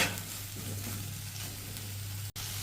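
Potato, pumpkin and cauliflower frying together in a pan for a Bengali mixed vegetable sabji, giving a steady, fairly quiet sizzle that runs unbroken apart from one brief dropout near the end, with no voices.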